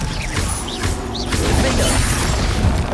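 Magic spells cast in Hogwarts Legacy produce a rapid series of booming, crackling game effects with whooshing swirls and mechanical clanks, loud and dense throughout.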